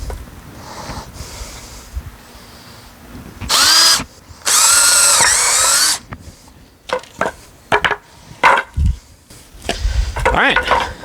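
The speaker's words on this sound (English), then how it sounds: "we got to drill with a 3/8 inch drill bit" Two loud bursts of a power drill with a 3/8 inch bit boring into wood boards, each a couple of seconds long, followed by scattered knocks and handling noises.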